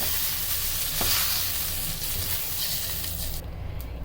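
Shrimp frying in a pan give off a dense, continuous close sizzle, with occasional stirring scrapes before the hiss drops off near the end.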